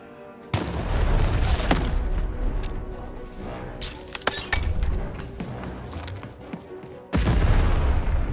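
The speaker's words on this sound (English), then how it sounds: "Shoot the button to fire the cannon." Heavy booming cannon blasts and crashing impacts erupt repeatedly amid loud chaotic game noise, with a couple of sharp explosive bursts standing out, in the video game Lost in Random.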